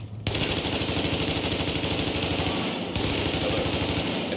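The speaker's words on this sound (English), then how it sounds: "Reporting gunfire in the station above us." Sustained rapid automatic gunfire rattles loudly and continuously in a Grand Central Station firefight in The Division, with only a brief dip partway through.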